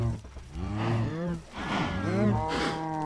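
Cows mooing in the Minecraft video game, with several drawn-out, wavering lowing calls in close succession, loud and near.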